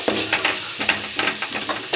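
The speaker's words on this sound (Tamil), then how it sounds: "தக்காளி போட்டு நல்லா வதக்கி விடணும்." Tomatoes and onions sauté in a pan for vada curry, a steady low sizzle broken by repeated scraping stirs of the spoon, close and fairly loud with no voices.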